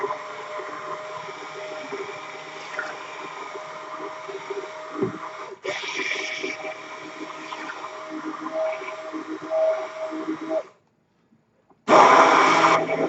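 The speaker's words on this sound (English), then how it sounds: "we're going to get our hand blender" A hand blender whirs steadily while puréeing a fermented spinach summer soup, a continuous close motor drone that shifts pitch partway through, cuts out briefly near the end, then returns at full power.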